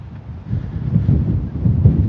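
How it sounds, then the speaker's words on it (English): Steady low wind rumble buffeting the microphone, gusting slightly louder after the first half second and holding throughout. "It's a little windy, no big deal."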